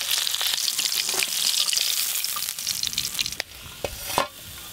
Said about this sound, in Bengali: যা মাছ আছে এগুলো একবারেই ভেজে নেবো একসঙ্গে।